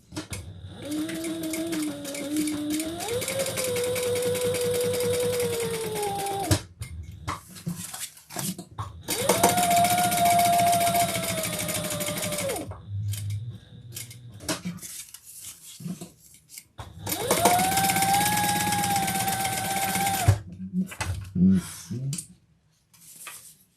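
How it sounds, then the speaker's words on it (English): A sewing machine stitching a fabric wallet runs in three long, steady whirring bursts with brief quiet pauses and small handling clicks between them, loud and close with no speech. "And stitch around 3 sides."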